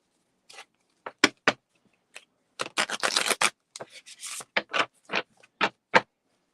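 A lightweight, bendy Rider-Waite tarot deck is shuffled by hand in a series of quick, soft riffling and rubbing bursts, close and quiet, with no talking.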